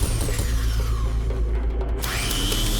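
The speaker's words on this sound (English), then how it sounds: "Even you aren't immune to chainsaws." A chainsaw attack in the horror game Fear and Hunger 2 sounds as a buzzing, grinding saw whine over a low rumble, with a shifting pitch that drops and then jumps up again.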